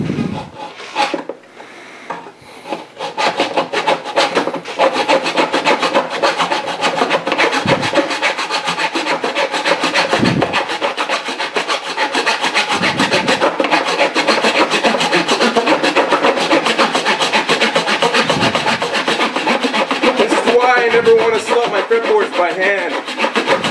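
A guitar fingerboard is trimmed by hand, the wood worked with rough, continuous rasping and sawing strokes, close and loud, with brief pauses and occasional knocks between passes.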